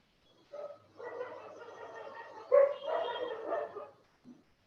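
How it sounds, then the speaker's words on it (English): A few dog barks and yips from nearby, irregular and moderately loud, with short pauses between bursts. "I can hear dogs"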